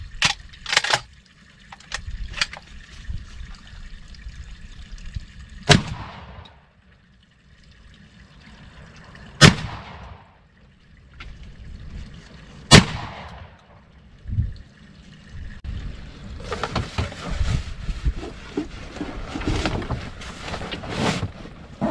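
Hunters fire gunshots at night in windy countryside. Several sharp, distant cracks ring out seconds apart, each with a short echoing tail, over rustling wind and faint background noise.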